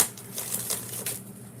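Tarot cards being shuffled by hand, a quick run of soft papery riffles and flicks, close and fairly quiet, with no talking.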